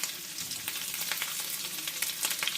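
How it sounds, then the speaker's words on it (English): Salted shrimp sizzle in a hot pan, a close, steady crackling hiss broken by brief bursts of spitting as they settle, with no one speaking. "we're going to put the shrimp here in the pan"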